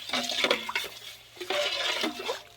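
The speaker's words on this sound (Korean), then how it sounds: "이렇게 잘 섞이도록 저어주세요" Salted brine for white kimchi is stirred in a bowl, the water swishing and sloshing in two close bursts separated by a brief lull.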